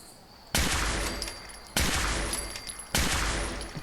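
Gunfire in Fallout 4: Far Harbor: three loud, sharp shots spaced about a second apart, each bursting suddenly and then trailing off in a ringing decay, close by with no voices.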